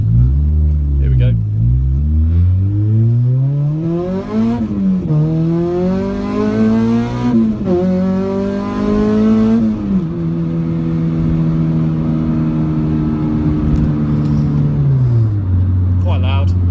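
A 233 bhp Honda Civic Type R engine revs hard at full throttle and climbs in pitch through the gears, loud and close, with brief dips at each shift before settling into a steady drone.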